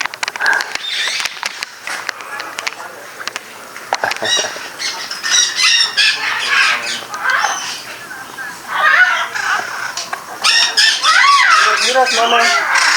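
Turkeys squawk and gobble repeatedly at a nature sanctuary, loud and close in irregular bursts, with people talking over them throughout.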